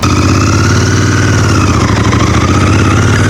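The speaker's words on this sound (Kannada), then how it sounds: "ನಾನು ಇವತ್ತು ಓಡಿಸ್ತಾ ಇರೋದು GT 650." A Royal Enfield GT 650 motorcycle engine runs steadily and loudly close by, with a dense, even rumble and no changes in revs or pauses, and no one speaking.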